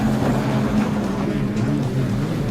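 Pro Runabout personal watercraft race on open water, their engines droning and surging under throttle at a steady mid distance, with a continuous rumbling hum and faint wind.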